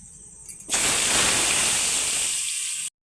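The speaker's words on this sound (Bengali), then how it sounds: "এবার এই তেলে আলুগুলোকে ভেজে নেব।" Potato pieces dropped into hot oil left over from frying chicken set off a sudden loud, hissing sizzle that swells and holds steady for about two seconds, then stops sharply.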